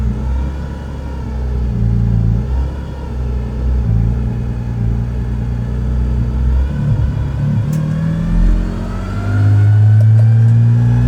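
A Porsche 718 Cayman GT4 RS, just started with cold oil, rolls out of a race shop into a back lot, its engine a loud, close, steady rumble that swells gently as it moves off.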